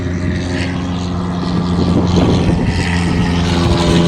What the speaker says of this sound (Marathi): हे बघा, कंटिन्यू इथं विमानं चालूच असतात.